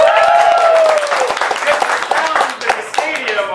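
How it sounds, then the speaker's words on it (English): At the season opener of a Snuffling game, a stadium crowd applauds with dense, sustained clapping, while a voice talks over the noise at the start. "Oh, go ahead. You can applaud."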